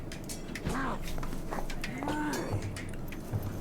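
A moose-like call from a tabletop fantasy game session, two drawn-out bellowing moos with a rising and falling tone, fairly close and moderately loud over a steady background hum.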